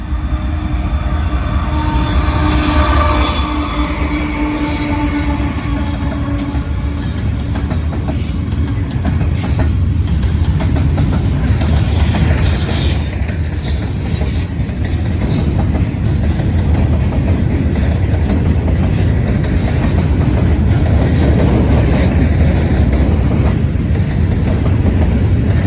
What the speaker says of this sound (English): We got another Norfolk Southern train coming. Coming across the bridge in a hurry.